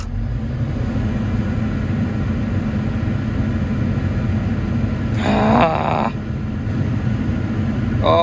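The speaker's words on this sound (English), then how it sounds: "when I rev the machine up," A machine with a regen system, suffering fuel pressure trouble, rotten plugs and bad wiring, drones in a low steady rumble, then briefly revs louder with a strained rising roar before settling back to idle.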